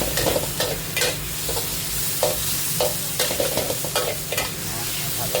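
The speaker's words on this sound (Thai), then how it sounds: "พริกแกงผัดให้หอมก็คือการฉุนนั่นเอง อ่ากระเบนลงไปครับ" Stingray pieces stir-fried with curry paste in a hot oiled pan make a steady sizzle, broken by repeated scraping strokes of the spatula at an uneven rhythm, close and fairly loud.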